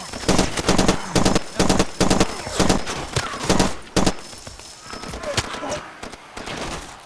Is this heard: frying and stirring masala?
no